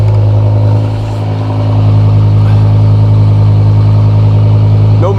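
A used BMW engine idles steadily just after starting, a loud, close, continuous low hum with a brief dip in level near the start and no talk over it.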